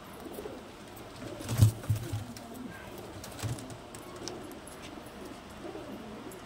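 Pet pigeons of a Pagla line in a loft give soft, low coos, a few brief rounded calls near the start and middle over a quiet, hissy background.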